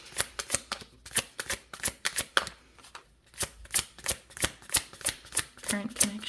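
A deck of oracle cards being shuffled by hand, rapid riffling flutters in quick repeated bursts with a short pause midway, close and crisp.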